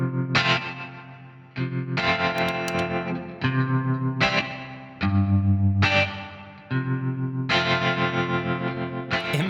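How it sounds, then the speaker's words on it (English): An electric guitar played through reverb and tremolo effect pedals rings out in loud strummed chords, each held and pulsing in a rapid tremolo wobble with a reverberant tail, several chord changes in sequence. "Take for instance, reverb into tremolo or tremolo into reverb."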